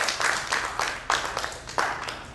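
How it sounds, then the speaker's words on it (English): A summer camp audience in a church gives a short burst of scattered clapping, moderately loud and irregular, fading out over a couple of seconds. "give your parents a round of applause"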